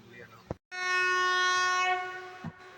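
The Hubballi-Rameshwaram weekly express sounds a loud, sustained train horn of just over a second as it departs the station, with brief thumps and rail noise before and after.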